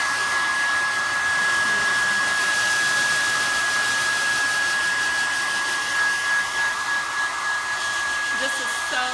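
A hair dryer blows steadily and loud for the whole stretch, drying a patina-effect paint finish on a craft piece, a constant airy roar with a faint high whine and no talking.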